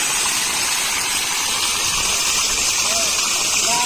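River water rushes over rocks at the Jayamangli River point near Hindupur, a loud, dense, continuous roar close by with a voice faintly under it.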